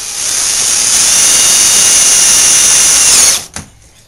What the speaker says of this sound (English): we can put our screws in here. Just using half-inch sheet metal screws